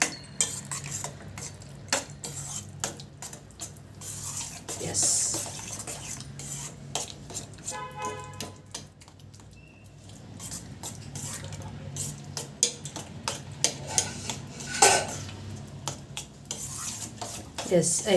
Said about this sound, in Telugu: జాగ్రత్తగా కలుపుకుందామండి